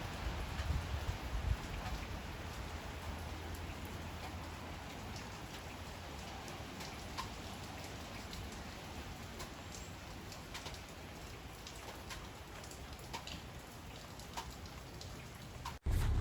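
Steady rain falling on surfaces outdoors after a thunderstorm, a continuous patter throughout with scattered distinct drops and faint pigeon cooing in the background.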